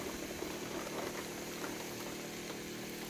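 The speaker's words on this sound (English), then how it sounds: "listen to that sizzle" A pre-seasoned breakfast chop sizzles on a George Foreman indoor outdoor grill powered by a Predator 2000 generator, a steady close crackling hiss over a low continuous engine-like hum with no voices.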